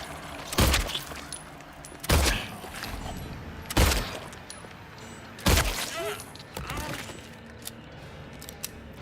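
Four sharp, loud gunshots from a handgun in the survival horror game Silent Hill 2, spaced about one to two seconds apart, each cracking out over a quiet, eerie ambient background with brief ringing decay.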